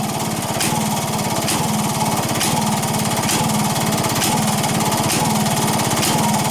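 Engine thumping along at a steady idle, each firing pulse evenly spaced in a regular, unbroken rhythm, loud and close with a constant mechanical rattle underneath.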